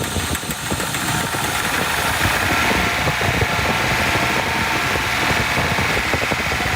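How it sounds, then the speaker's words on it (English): A 1976 Datsun 280Z pulled from a junkyard, its engine running steadily with a loud, rough, continuous mechanical drone and a faint knocking texture, close up with no talking. "there you go, a running 280Z out of a junkyard or a barn or wherever Kevin got this thing."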